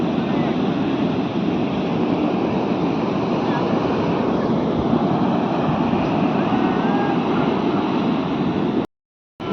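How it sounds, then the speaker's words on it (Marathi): Large ocean waves crash and surge onto a Goa beach in a loud, continuous roar buffeted by wind against the microphone, cut by a brief dropout near the end. "किती मोठ्या मोठ्या लाटा येत्या बघा."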